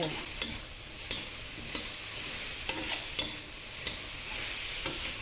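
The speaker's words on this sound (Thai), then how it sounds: "สามารถใช้ไฟแรงในการผัดได้เลยนะคะ" Pork and carrot pieces stir-fried over high heat: a constant loud sizzle broken by regular scraping strokes of a spatula against the wok, close and without speech.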